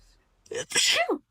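A single sharp sneeze bursts out close to the listener, a short breathy intake followed by a loud explosive release, in a quiet room with no other sound.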